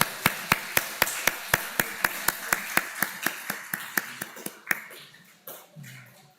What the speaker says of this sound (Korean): 한 번 더 박수해 주시면 고맙겠습니다